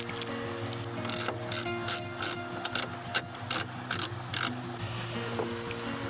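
A ratchet tightens the fittings of a new snorkel on a truck, a close run of sharp clicking pawl strokes in uneven bursts with short pauses, over a low steady hum and no talk.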